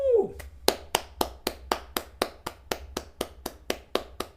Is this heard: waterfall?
no